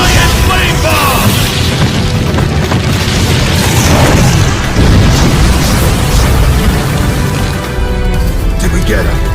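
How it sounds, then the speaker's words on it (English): A giant flame bomb fire jutsu from Naruto Ultimate Ninja Storm 2 erupts in a loud, sustained roaring blast of rumbling fire that fills the scene, with game voices shouting over it. "Fire stun! Giant flame bomb!"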